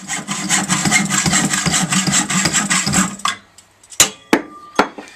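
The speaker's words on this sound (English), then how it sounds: "So let's get hacksawing and see what these look like" A hacksaw cuts through the exhaust baffles of a Harley-Davidson XL883 Iron, giving steady, close rasping strokes for about three seconds, then stopping, followed by a few sharp metallic knocks and clanks.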